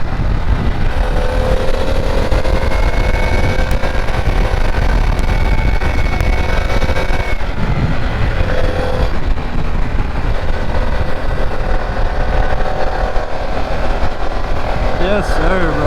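A 2024 Harley-Davidson Pan America motorcycle's engine hums steadily and loudly under constant wind rush while riding through a curve, with the engine tone shifting slightly midway.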